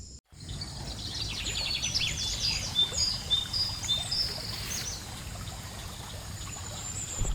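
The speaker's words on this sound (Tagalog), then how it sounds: "Wala kang ibang maririnig kundi ang tunog ng ilog dito." A river flows steadily at night beside a campsite in San Antonio, Zambales, a continuous soft rushing wash with faint insect and bird calls chirping over it, no voices.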